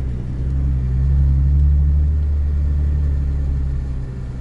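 A manual-transmission car drives along with its engine running steadily, a loud, close low rumble that holds even throughout with no voices.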